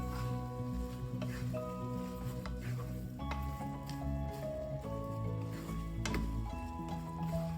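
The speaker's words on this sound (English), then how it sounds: "Give this a stir" Spoon stirring sautéed corned beef with cooked potatoes in a sizzling pan, giving soft scrapes and a few clinks over a steady frying hiss.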